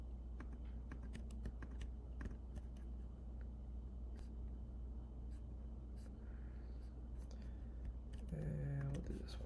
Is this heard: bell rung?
no